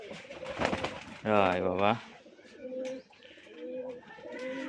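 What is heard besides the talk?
Rajshahi Giribaz pigeons cooing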